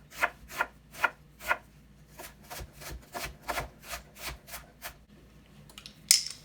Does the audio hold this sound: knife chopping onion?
yes